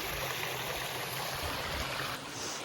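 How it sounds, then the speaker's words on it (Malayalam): Steady rushing water pouring over rocks fills the clip with a continuous broadband wash and no voices, in the Vattavada forest. "പാറ പാറയിൽ നിന്ന് വരുന്ന വെള്ളം"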